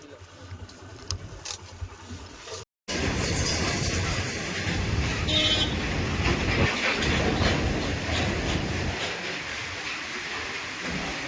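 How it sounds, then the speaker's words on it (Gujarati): A train rumbles past close by at a closed level crossing gate, with a loud, steady roar and rhythmic clatter of wheels that lasts throughout, with faint talk at the start. "ચાલો ભાઈ રેલવે આવી ગઈ છે"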